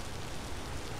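Steady rain falls in the survival game Vintage Story, a dense, even hiss of drops on surfaces with no breaks or voices.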